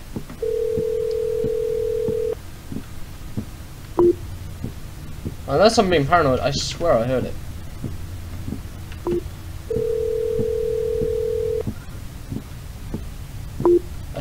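Phone ringback tone heard twice while calling someone at night outdoors, each long steady tone lasting about two seconds and separated by a burst of a man whispering in between; faint background noise throughout.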